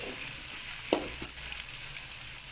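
Onions browning in a pan for chicken heart and liver curry give a soft, steady sizzle with a single light scrape of a spoon near the start.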